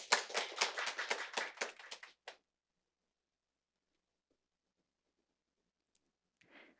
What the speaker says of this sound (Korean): 역시 큰 박수로 환영해 주시기 바랍니다.